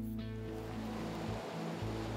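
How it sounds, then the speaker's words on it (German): Water flowing over a turning mill wheel at an old water mill on a river, a dense continuous rushing roar with a low steady hum, close and unbroken. "Die Bewegung des Wassers bringt das Mühlrad hier zum Drehen."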